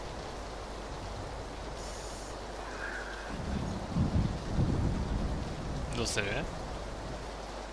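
Steady hissing rain falls in the battle royale game PUBG, a continuous noise bed with a few brief rumbling bursts, while players talk over it.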